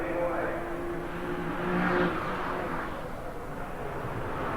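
Porsche race cars, among them 924s, 944s, 911s, 930s, a 356 and a 914, run a 1988 street circuit race in Wellington. Their engines make a steady, fairly distant drone that swells briefly, with a commentator talking over it.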